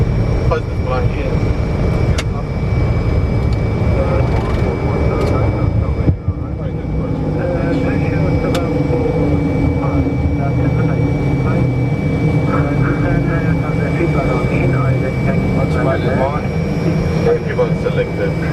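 An Iran Air Fokker F100 jet airliner takes off from runway 29R at Tehran Mehrabad Airport, its engines a loud continuous roar throughout, with voices heard under the noise.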